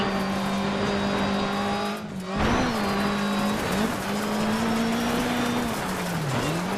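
A steady, sustained race car engine drone in the video game Dirt 3, with shifting pitch, a brief tire squeal midway, continuous and fairly loud with no talking.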